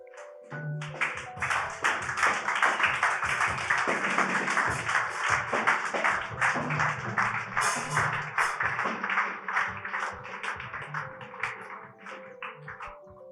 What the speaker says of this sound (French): Tiens-toi debout et acclame fortement le Seigneur